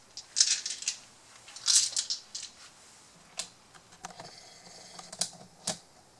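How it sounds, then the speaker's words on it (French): Seven dice rolled for a Mythic Battles Pantheon board game turn clatter in two quick bursts of sharp rattling clicks, followed by scattered lighter taps and knocks, close and fairly quiet with no talking. "L'hydre va lancer donc 7 dés."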